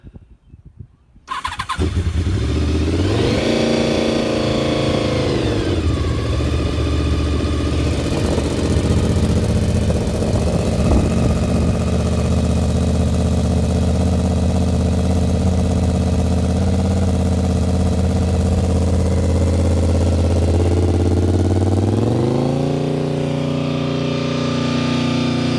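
A 1986 Honda VFR 750 motorcycle with stock carburation starts on full choke and settles into a loud, steady, close idle. Its pitch rises and falls briefly near the start and again near the end.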